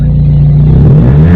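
A Toyota Corolla Twincam GTI 1.8 with a manual gearbox and a replaced exhaust revs up close and loud, its deep steady engine drone rising slightly in pitch.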